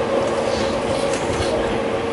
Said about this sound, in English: This is the Yamanote Line train bound for Shibuya and Shinjuku.